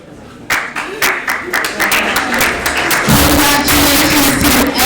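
Audience applause at a student election results announcement, a dense burst of clapping that starts abruptly and builds into sustained applause, with some talking mixed in.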